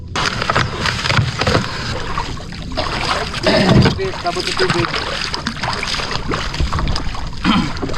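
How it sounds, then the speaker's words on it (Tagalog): Small motorboat moving across water, its continuous engine drone mixed with splashing and wind, while people talk loudly over it throughout. "Dito kami mga karabas magkasakay sa maliit na motor."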